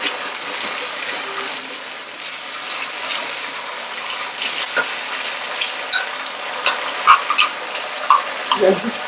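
Broth is poured into a vegetable sauce for chicken nuggets, giving a steady close hiss of liquid with faint sizzling and a few small clinks toward the end, no talking.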